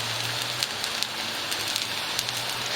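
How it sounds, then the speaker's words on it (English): A java-crusted New York steak sears in a hot pan, giving a dense, steady sizzle and crackle close by with small pops scattered throughout. "what I'm doing is I want to sear in all the juices, but I want to get a nice crust with this rub that I made"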